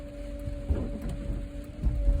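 Steady rain on the roads heard from inside a car while driving, a constant wet hiss with low road rumble and a couple of soft thumps, no voices.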